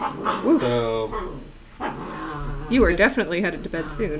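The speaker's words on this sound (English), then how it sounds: "if you can hear some growling and or fighting in the background," Dogs growl, whimper and scuffle as they tussle in the background, while two people talk over them in the foreground.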